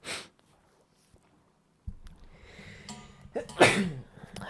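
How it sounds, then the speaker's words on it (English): A single sharp sneeze bursts out near the end, after a quiet stretch broken by a brief puff of breath and some soft rustling. "I had to sneeze."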